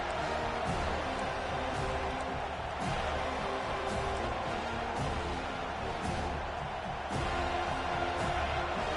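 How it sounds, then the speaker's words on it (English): Dense stadium crowd noise in a college football video game, a steady broad roar with occasional surges, under a commentator's talking. "Decibels rising as the crowd gets behind this defense on third down."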